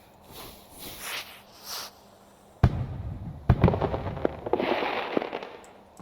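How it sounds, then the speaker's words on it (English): Fireworks in the Minecraft video game pop and burst in a rapid string of sharp cracks, a few soft whooshes first, then loud close explosions crackling and trailing off. "the fireworks are going there"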